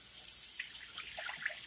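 Tap water runs steadily into a sink or bowl while potatoes are rinsed to wash off starch, a soft hissing splash with small drips, quiet and close, with no voices.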